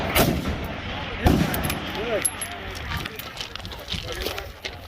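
A precision rifle fires a single shot at a PRS match, a sharp report near the start followed by a second crack a moment later, with people talking in the background and outdoor ambience.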